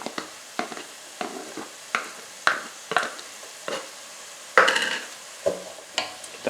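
Garlic stirred into softened tomatoes in a pan with a wooden spoon, a steady series of scraping, knocking strokes roughly every half second over a soft sizzle, close up.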